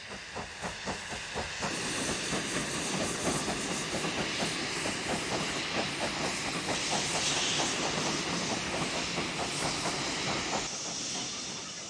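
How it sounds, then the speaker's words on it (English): A Stanier Class 5 steam locomotive pulls away with the Pines Express, its exhaust beats chuffing in a regular rhythm that quickens over a constant hiss of steam and rolling train noise, loud and steady. "we see another departure of the Pines Express, running north to Manchester behind a Stanier Class 5"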